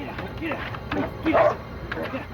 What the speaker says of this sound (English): The dog charged forward